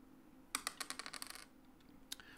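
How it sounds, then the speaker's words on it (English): A four-sided die rolling during a tabletop roleplaying game, a quick clattering series of light tapping bounces that speed up and fade, then a faint extra click, close and quiet. "I'm going to roll a four-sided dice"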